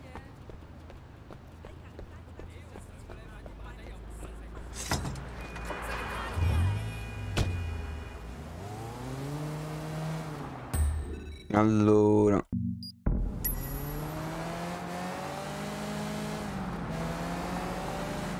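Car driving in the PC game Sleeping Dogs Definitive Edition, engine revving in repeated rising and falling sweeps with a sharp crash-like burst midway, under someone talking.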